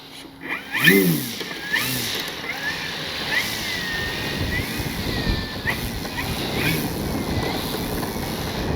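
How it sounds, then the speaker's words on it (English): An electric motor on a Hangar 9 20cc Valiant RC plane whines at a steady pitch, close by, with some voices and outdoor noise around it. "Motor on and ready to cut you up."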